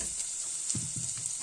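Onion and potatoes sautéing in fat in a pan for radish-top soup, a soft steady sizzle with a few low stirring bumps partway through, close and quiet.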